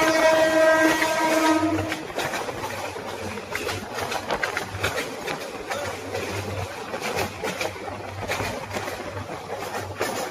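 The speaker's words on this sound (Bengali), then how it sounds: "আমাদের ট্রেন আবার ছেড়ে দিতে ভাই।" A crowded, hot passenger train pulls out of a station, opening with a short horn blast, then a steady rumble and rhythmic clatter of wheels on track, with no voices.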